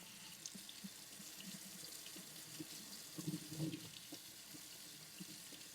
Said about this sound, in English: You'll just have to imagine me spraying, running cold water over these things.